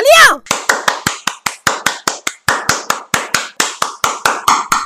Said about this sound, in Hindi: बंद कर अपनी तालियां